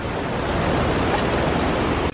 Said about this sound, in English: We found the waterfall in the dark.